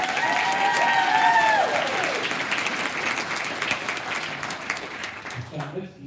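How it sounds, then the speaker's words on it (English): Applause from a graduation ceremony audience fills the hall, dense and steady throughout and fading slightly toward the end, with a few voices mixed into the clapping. "Another round of applause"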